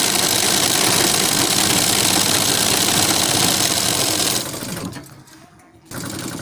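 A sewing machine stitches fabric pieces for a designer slip, a loud steady whirring run that slows and drops near the end, pauses briefly, then starts again.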